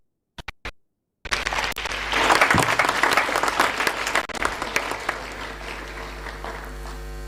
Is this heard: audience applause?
yes